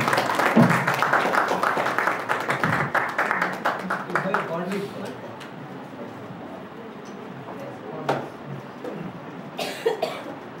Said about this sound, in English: Let us welcome Shankar Narayan sir with a big round of applause.